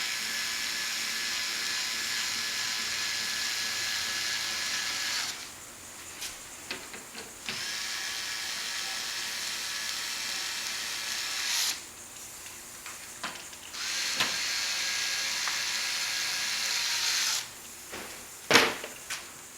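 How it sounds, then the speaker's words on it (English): A small electric drill drives bolts or screws into the hull of an Ascend FS 12T sit-on-top kayak while fitting a skimmer, its steady whine running in long bursts separated by brief pauses and a few clicks and knocks. "we take our hand drill or a small electric drill and we just bring it down to the end"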